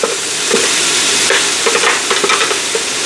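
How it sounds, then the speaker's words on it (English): Vegetables for a Pennsylvania Dutch Sunday stew are stirred in a pot, with steady scraping and soft clatter that sits close and fairly loud, without speech, joined by a few sharper knocks of the spoon. "So I go ahead and stir this all up."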